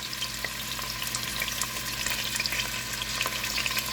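Beef browning in a preheated pan for vegetable soup, a dense continuous sizzle and crackle with small pops throughout, close and steady with no voices.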